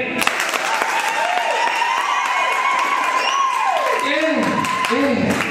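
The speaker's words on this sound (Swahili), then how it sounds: "Wapi makofi yake?" An audience claps and cheers steadily for a singer at a launch event, with whistle-like rising and falling tones cutting through the dense, continuous crowd noise.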